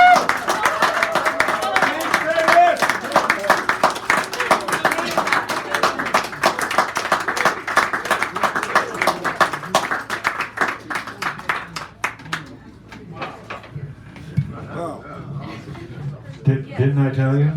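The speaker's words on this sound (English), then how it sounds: "Give her another round of applause" Enthusiastic applause from a cafe audience after a San Francisco poetry hour reading: dense clapping that thins out toward the end, with scattered voices and a few chuckles.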